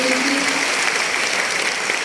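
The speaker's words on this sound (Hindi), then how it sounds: "उनके लिए एक बार जोरदार तालियां करेंगे।" A crowd at an event in Varanasi claps continuously and loudly, a dense wash of applause with no pauses.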